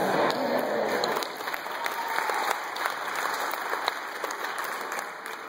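A church congregation applauds steadily, dense clapping filling the space, with a few cheers mixed in and no talking over it.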